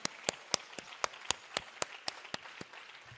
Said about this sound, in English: I request all the audience to give a big applause to Guru Srimati